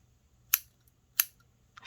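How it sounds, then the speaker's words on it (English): Two crisp, separate snips of scissors cutting through weaving yarn while finishing a woven piece, spaced about half a second apart and close by, with a faint third click at the end. "Okay, I'm gonna cut that off."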